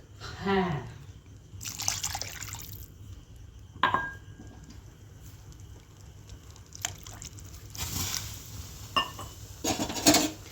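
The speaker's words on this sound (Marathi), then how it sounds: "मी यात पाणी टाकणार आहे" Water is poured in short splashing bursts into a pan of cooking brinjal for a gravy curry, between quieter stretches with a few utensil clinks.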